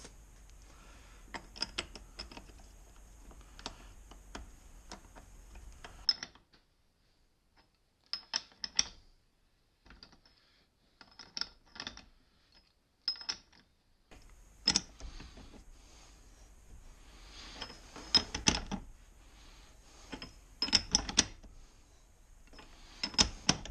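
A ratchet tightens the pinion nut on a differential during a pinion bearing install, with short bursts of close, rapid clicking separated by pauses, some strokes sharper and louder than others.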